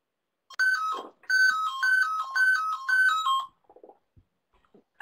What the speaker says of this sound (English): That's my phone going.